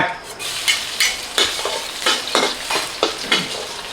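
Minced garlic is stir-fried in a hot pan for a Thai glass-noodle and shrimp dish. A spatula scrapes in a steady rhythm of about seven strokes over a continuous close sizzle.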